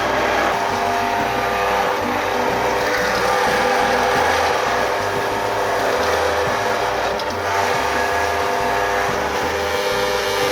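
A meat grinder mincing veal and beef for a Bolognese sauce runs as a loud, steady mechanical grinding and whirring with dense rattling texture, constant from start to finish without pauses and with no talk.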